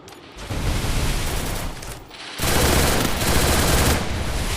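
Rapid automatic gunfire from the Free Fire battle game in a custom-room duel, dense continuous bursts that briefly pause and then resume louder and sustained.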